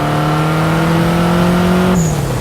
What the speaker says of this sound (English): it strikes such a nice audio balance in between small-bore V8 wail and turbo diverter valve noise